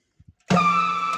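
A pellet mill granulator starts up after two soft clicks, its motor kicking in loudly with a steady harmonic hum and whine that holds on without talk.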